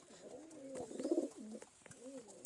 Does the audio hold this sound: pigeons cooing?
yes